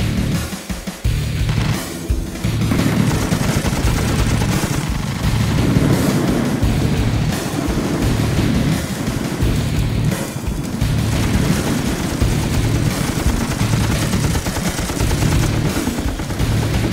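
Heavy gunfire in an action movie scene: dense bursts of automatic weapons and booming shots, loud and sustained over a rumbling background, with no talk.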